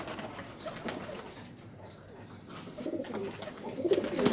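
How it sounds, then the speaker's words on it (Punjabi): Spotted hi-flyer pigeons in Punjab cooing softly in a few low, murmuring bursts that grow a little louder toward the end, with no talk. "ਇਹ ਡੱਬ ਵਾਲਾ ਕਬੂਤਰ ਹੈ।"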